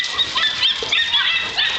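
Several dogs bark and yip at a ranch, overlapping high-pitched calls in irregular bursts, fairly loud and close.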